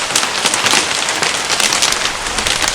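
Hail patters and clatters densely on a car's windshield and roof during a thunderstorm, a loud, steady, close hiss of many small impacts with no voices.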